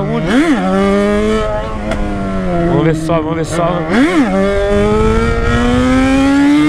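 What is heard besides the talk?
Yamaha XJ motorcycle engine roaring and revving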